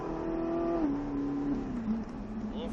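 A Ferrari car accelerates on a track, its engine a steady droning tone that shifts down in pitch, heard from inside at moderate level.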